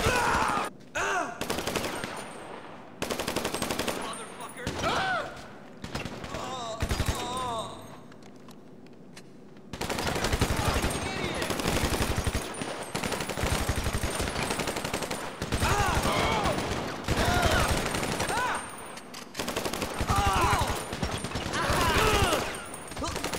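Gunfire in GTA Online comes in rapid bursts and repeated volleys, loud and close, broken by short pauses. A voice talks now and then between the shots.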